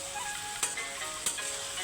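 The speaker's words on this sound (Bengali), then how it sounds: "একটু কষাচ্ছি একটু পানি দিয়ে দেবে একটু করে" Vegetables and spices sauté in a pan for a mixed vegetable curry, giving a steady, moderate sizzle with two brief clicks of stirring, and no talking.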